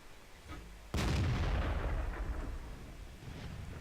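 A single tank cannon shot from an M37 in a tank video game, a sudden loud boom that rolls off into a long fading rumble, alone without speech.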